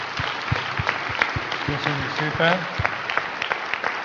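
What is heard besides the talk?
audience applause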